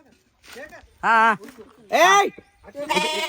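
Goats at a farmhouse bleat loudly and close by, with several separate wavering cries in quick succession and short gaps between them.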